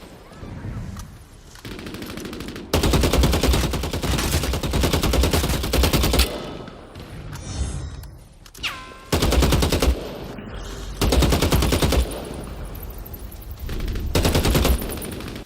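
Bursts of rapid automatic gunfire ring out in the vampire battle royale shooter Vampire The Masquerade Bloodhunt, loud sustained volleys separated by brief pauses and a few single shots, with no talking.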